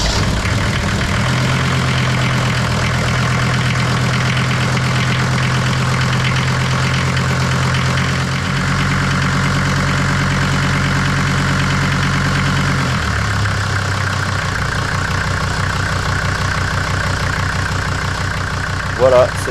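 A Mercedes SLC 300d diesel engine, started by touching the glow-plug wires, runs at a steady idle throughout, its low rumble continuous and close with a slight shift in tone partway through, while a person talks over it.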